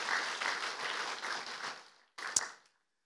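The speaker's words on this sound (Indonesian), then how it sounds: "Sekali lagi dong, tepuk tangan buat Tuhan Yesus." Congregation clapping at a church worship service in Jakarta, a broad, steady wash of applause lasting about two seconds, then a brief second burst with one sharp louder clap before silence.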